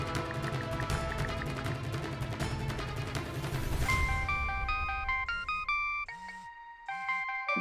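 A mobile phone ringtone plays a bright, repeating electronic melody with short tonal phrases. It rises out of busy background music and then carries on fairly loud and clear on its own.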